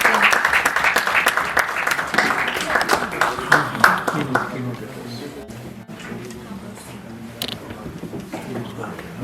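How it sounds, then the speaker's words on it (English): Festival audience applauding as keynote speakers are welcomed on stage, dense clapping for about four seconds that thins into scattered claps and room noise, with voices talking throughout. "have a round of applause."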